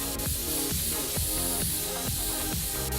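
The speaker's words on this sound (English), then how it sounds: "Now we just use our compressed air can here to blow it out." Compressed air from a can blasting dust out of a PC in the game PC Building Simulator, a loud steady hiss broken by a run of short rhythmic clicks or pulses, close and continuous with no talk.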